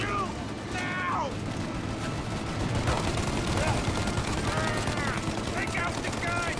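Gunfire rattles in a street shootout in Mafia Definitive Edition as dense bursts of automatic and single shots crack continuously. They are loud and close, with someone shouting urgently over the firing.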